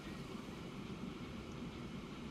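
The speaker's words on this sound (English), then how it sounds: "I would love to ride on this train." Quiet, steady rumble of a train riding along the track in Transport Fever, a continuous low rolling drone heard from a distance without breaks.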